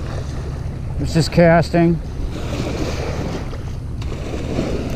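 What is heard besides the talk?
waves lapping on lake shore while fishing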